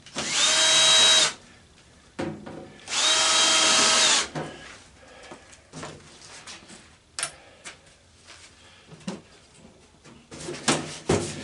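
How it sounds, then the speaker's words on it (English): A power drill backs screws out of a microwave being scrapped for copper, aluminum and magnets in a cramped workshop: two loud, steady whirring bursts, each about a second long, followed by clattering and light handling noises. "Still got a few screws to get out of this thing"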